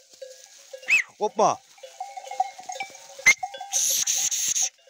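Goats and sheep on a mountainside give several wavering bleats near and at a distance, with faint cowbell clinks in the background and someone shouting briefly among them.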